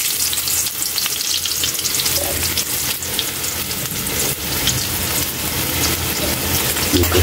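Ginger dropped into hot oil in a pan frying with a loud, steady crackling sizzle that holds throughout, with faint kitchen noises underneath.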